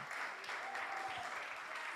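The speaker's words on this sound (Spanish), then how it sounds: "Vamos, vamos, aplauso fuerte para Él" Steady applause rises from a worship service audience, many hands clapping together in a continuous, fairly soft wash of sound with no speech over it.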